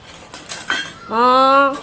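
Metal dishes handled at a children's pretend stall at an anganwadi centre: a few light clinks and taps, then a clear ringing plate tone that sustains before fading, close up.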